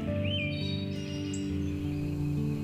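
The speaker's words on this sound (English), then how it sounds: "What you'll find is a smattering of birds" Birds chirp and whistle in Yosemite National Park, a few thin calls rising over a steady hum of outdoor background noise, moderately near with no voices.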